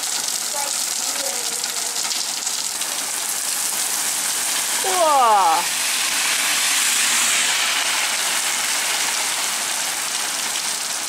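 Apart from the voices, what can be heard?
very fast, heavy rain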